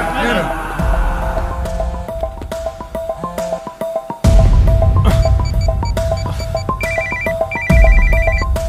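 A phone's electronic ringtone plays over and over in a repeating melody, while voices and other sounds come and go underneath.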